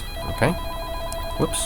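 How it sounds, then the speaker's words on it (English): A mobile phone rings during a chemistry lesson, with steady electronic ring tones over a faint background hum, and someone briefly speaks between the rings. "that's my phone ringing, but I'm going to ignore that"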